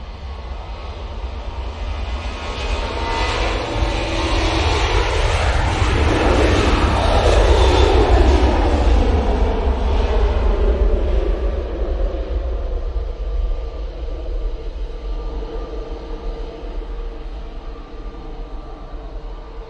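Airliner on its takeoff roll at Manchester Airport, a loud jet engine roar that swells to a peak and then slowly fades as the aircraft moves away, steady and continuous.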